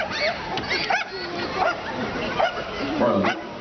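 Search-and-rescue dog giving short excited barks and yips after finding a victim during a fire service demonstration, heard among people talking nearby.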